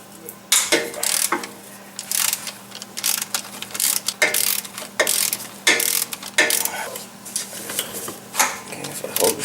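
A starter mounting bolt is backed out of a Firebird Trans Am, Camaro or Corvette engine with a ratchet, giving bursts of close, quick metallic clicking separated by short pauses, steady under a low hum.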